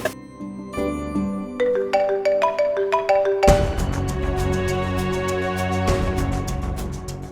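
An electronic ringtone melody plays, starting with ascending notes and continuing as a loud, rhythmic tune with steady beats.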